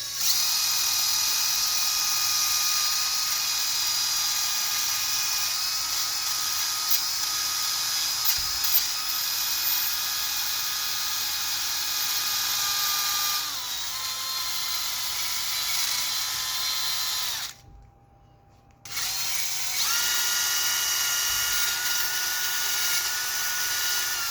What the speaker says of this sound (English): I'm going to take the rust away with the grind wheel.